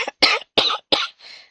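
A woman coughs three times in quick, sharp bursts, close to the microphone, followed by a softer, breathy trailing exhale. The setting is quiet, with no talk over the coughs.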